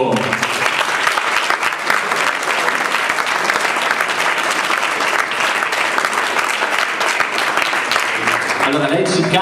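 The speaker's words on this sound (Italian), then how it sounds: "Un grande applauso per Martina Colombo." A live audience at a pop rock jazz singing contest applauds singer Martina Colombo as she is called to the stage, with dense, loud, sustained clapping and crowd noise filling the space, mixed with voices.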